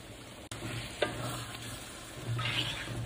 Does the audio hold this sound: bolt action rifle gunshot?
no